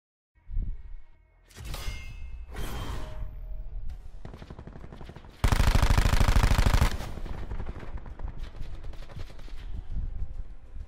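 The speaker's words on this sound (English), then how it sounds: "Even in slow motion, that gun shoots really fast." Rapid bursts of automatic gunfire from a gun in Black Ops 4, loud and close, several separate volleys with one very dense, heavy burst in the middle, over continuous game background noise.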